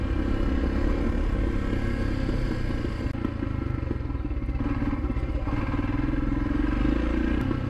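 A Royal Enfield Himalayan motorcycle is ridden over uneven ground, its engine droning steadily and loudly throughout with rattling clatter and wind rumble, no voices.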